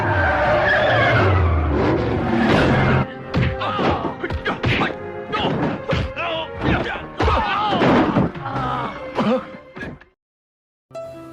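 In a 1997 action film scene (Mr. Nice Guy), a car's handbrake is yanked and the car skids out of control with a long loud tire screech, followed by a string of thumps, thuds and crashes mixed with voices, then sudden silence.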